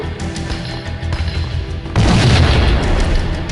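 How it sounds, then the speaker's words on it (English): A grenade sets off trip mines in the PlayStation 2 game Max Payne: a quiet stretch of game ambience, then a loud, deep explosion that rumbles on to the end. "Do I have to utilize a grenade again?"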